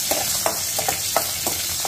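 Green chillies and dry red chillies frying in hot oil, a dense close sizzle punctuated by sharp regular taps and scrapes of stirring.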